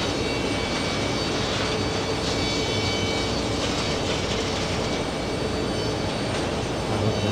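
A Boeing 747 jet at JFK Airport gives off a steady, loud, broadband engine roar that holds evenly from start to finish with no talk.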